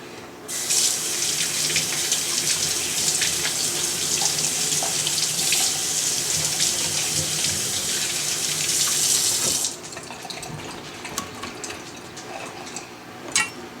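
Vegetables for a spicy beef stew rinsed under a running kitchen tap, a loud steady rush of water for about nine seconds before it shuts off, followed by faint drips and handling noises.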